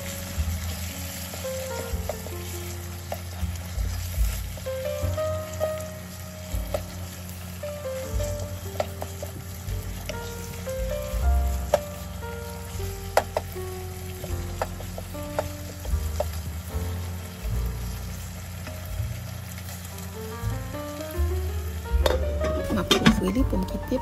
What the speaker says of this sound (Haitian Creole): Quand il y a pâte tomate bien frit là-dedans